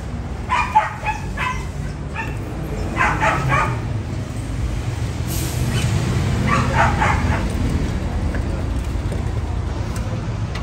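A dog whines and lets out short, high yips in a few separate bursts over a steady low rumble of background noise.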